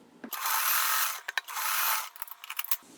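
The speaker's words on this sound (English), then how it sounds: "I'm going to fold it back right sides together, and I'm just going to sew on that fold" A sewing machine stitches along a folded strip of quilt fabric in two short, loud, buzzing runs, followed by a few quick clicks.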